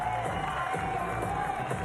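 A large crowd murmurs and stirs in the stands at Invalides during a Paris 2024 Paralympic mixed team archery match featuring Czechia, a steady, dense wash of voices and faint cheers with no single standout shout.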